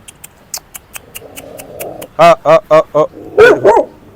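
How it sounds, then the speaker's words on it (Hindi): Several dogs barking in a crowded slum lane in Hanoi, Vietnam, starting with scattered short yips and then a loud run of close, repeated barks, with a voice talking in between. "कुत्ते बहुत ज़्यादा यार, यहाँ पर कुत्ते काट ना ले।"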